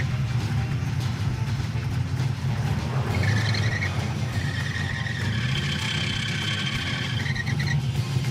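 A Roadkill project car's engine idles with a steady low rumble and an uneven warble throughout, joined midway by a higher whine or squeal, heard close and fairly loud with no talking.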